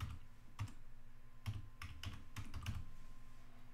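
Someone types a password on a computer keyboard while installing Ubuntu 20.04 in a dual boot with Windows 10, a run of close, crisp key clicks in an uneven rhythm with no talking.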